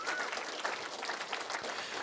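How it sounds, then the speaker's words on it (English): Audience applause at a community forum comes through as a brief, fairly faint spread of many hands clapping, even and continuous throughout. "you should give the state of Wisconsin a round of applause for what it's done in school choice."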